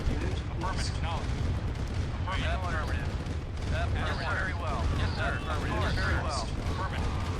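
Battlefield gunfire from a Command and Conquer 2v2v2 match, with tanks trading shots in a dense, continuous clatter of bursts and explosions; chirpy game effects break in throughout, steady and loud with no pauses.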